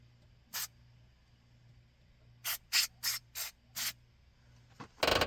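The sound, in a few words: white lithium grease spray on truck door latch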